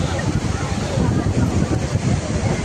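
Athirapally waterfall roars as a dense, continuous rush of water, loud and close, with wind buffeting the microphone.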